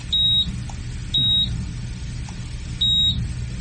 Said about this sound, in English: Everybody want to check their buzzers before we start?